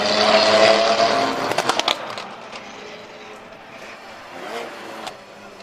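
Cars race away from the line at a spectator drag race, a loud roar of engines near at first that fades into a distant whine and rumble.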